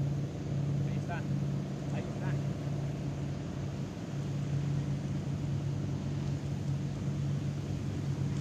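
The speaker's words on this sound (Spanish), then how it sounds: "Las lanchas que no me dejan" Motorboats run along a river at a carp fishing spot, making a continuous droning hum that holds steady throughout, with faint distant sounds over it.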